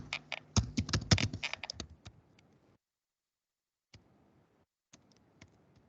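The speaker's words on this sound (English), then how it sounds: "Here also you can type." Fast typing on a computer keyboard, a close burst of clicking keystrokes for about two seconds, then silence with a few isolated key taps, quiet overall.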